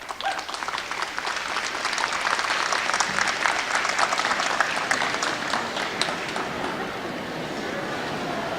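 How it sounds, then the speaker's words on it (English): An audience at a senior celebration breaks into sustained applause, a dense steady wash of clapping from a large crowd with no talk over it. "Now you may applaud."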